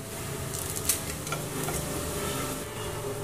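Noodles are stir-fried in a pan for veg momos, making a steady loud sizzle with light scraping and clinking of the spatula throughout, heard up close without speech.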